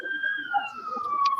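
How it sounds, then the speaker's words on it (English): A police-type emergency siren wails at a steady, slowly falling pitch, fairly close and continuous, with faint background voices murmuring beneath it. "who's that sirens?"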